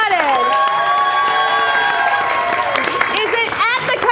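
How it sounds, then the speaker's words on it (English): A live showdown audience cheers and whoops loudly for the directors, with excited high voices and shouts sustained throughout and a burst of scattered yells near the end. "You will cheer the most for the ones you want to continue"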